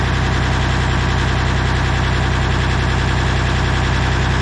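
A Bomag BW213 compactor's diesel engine runs steadily just after starting, a loud, continuous low rumble with an even mechanical throb and no voices over it.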